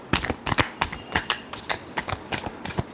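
Tarot deck shuffled by hand in a steady series of crisp, rapid card riffles and taps, close and alone.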